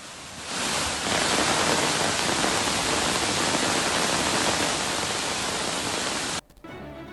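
Rain pours steadily in Bangalore over Sarjapur Main Road as water pools on the street, a dense, even hiss that holds for about six seconds before cutting off abruptly near the end.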